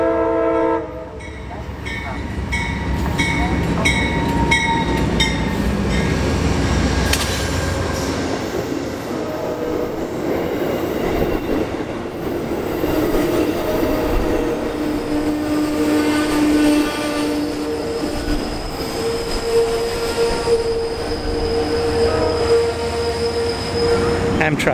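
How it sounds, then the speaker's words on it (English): An Amtrak train passes close by, its steady, loud rumble and wheel noise running throughout, with horn blasts sounding over the rolling cars. "Amtrak. I'm not getting on it though."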